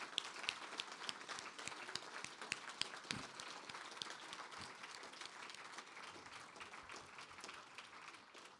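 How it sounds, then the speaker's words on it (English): An audience at a literary reading event applauds, a dense, fairly distant patter of many hands clapping that runs steadily throughout without voices. "How about a round of applause for Samyak and Kristy?"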